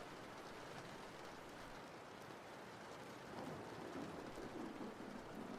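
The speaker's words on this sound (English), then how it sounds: "You should be able to hear some rain sounds" Rain falls at night in a steady, soft, hissing patter that swells slightly partway through, heard at a distance with no talking.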